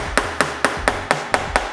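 A small Stanley Jr. hammer strikes during a father-and-daughter DIY calendar build. Seven sharp, close blows land at a steady, even pace, each followed by a short ringing decay, with no talking.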